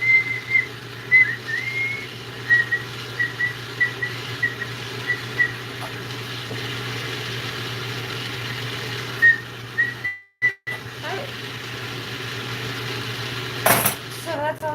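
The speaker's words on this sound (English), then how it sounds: "Sometimes they whistle. We got a whistler." A hot piece of glass whistles in a lampworking torch flame, a thin high whistle coming in short repeated chirps over the steady roar of the torch, with brief clinks near the end.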